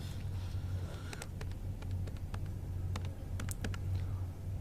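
Keys clatter in quick irregular bursts as a character types on a computer keyboard in the video game Indigo Prophecy, soft and close over a low steady hum with no talking.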